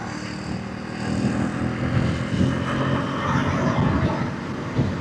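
A KTM Duke 390 Gen 3 motorcycle engine pulls steadily as the throttle is opened gently on the highway. The drone is loud and continuous, blended with rushing wind noise and no pauses.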